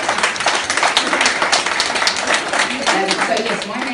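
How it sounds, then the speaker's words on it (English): An audience at a women's mentoring event gives a round of applause, dense clapping from many hands, loud and close, holding steady throughout. "If you can give them a round of applause"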